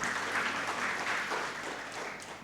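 A church congregation claps during an online worship service, a fairly faint, continuous patter of applause that tapers slightly toward the end.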